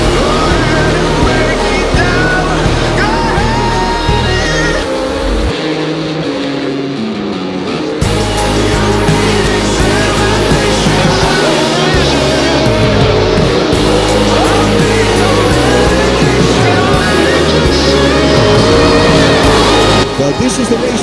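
Race cars roaring around an SRX series track in a continuous loud engine drone with shifting pitch, as the cars pass and the laps wind down, under a commentator talking steadily.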